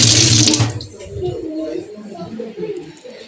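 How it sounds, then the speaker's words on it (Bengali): Raw chicken meat being washed in water, a loud burst of running water at the start followed by wet splashing and handling of the meat in a bowl. "আমি এখন এই মাংস ধুইয়া ভালো করে বাইছে তারপরে ভালো করে ধুয়ে নেব"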